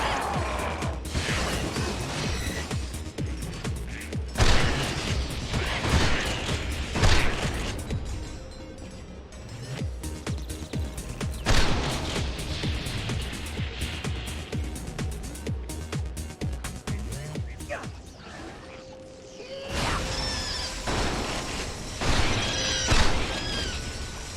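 Shotgun blasts in Ratchet & Clank Future: A Crack in Time, several sharp crashing bursts with shattering debris and mechanical clanks between them, loud and close.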